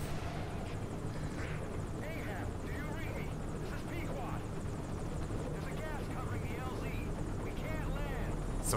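A helicopter in the video game Metal Gear Solid V: The Phantom Pain keeps up a steady, loud rotor and engine drone throughout, with chirping game effects layered over it.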